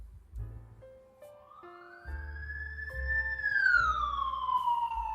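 Emergency vehicle siren from a stock sound-effects library, a rising wail that swells louder and then sweeps downward as it seems to pass, with a low engine rumble beneath and no talking.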